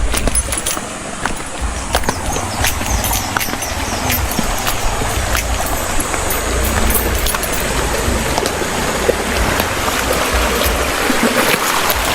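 River water flowing steadily at a campsite, a broad continuous rush and trickle filling the whole stretch, fairly loud and close, with faint intermittent clinks and knocks over it.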